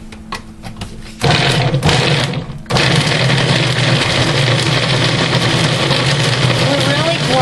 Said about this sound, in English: We're really grinding the cheese up.